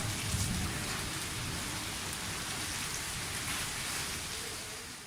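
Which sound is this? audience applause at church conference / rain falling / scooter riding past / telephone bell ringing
rain falling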